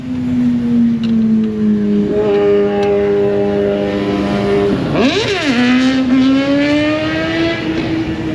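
A motorbike rides past doing a wheelie, its engine note rising through the gears, then swooping sharply as it passes close by before settling into a steady, fading drone.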